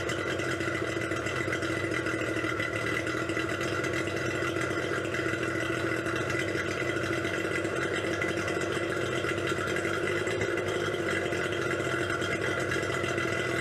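An outboard motor runs steadily while being flushed with a garden hose after a trip, a continuous idling drone with a light mechanical clatter and no talk.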